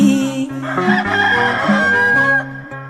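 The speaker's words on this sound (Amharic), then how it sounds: "ይጮሃል የጴጥሮስ ዶሮ" A rooster crows in one long, loud call lasting nearly three seconds, heard up close over a musical background.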